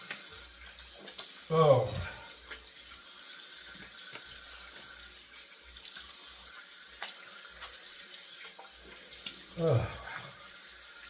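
Tap water runs steadily into a sink as a face and head are rinsed after a shave, a close continuous splashing rush, with a man's short exclamations rising above it twice.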